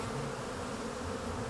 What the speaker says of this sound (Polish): Pszczoły obsiadają mnie na rękach, ale to są bardzo malutkie pszczoły, niewypracowane.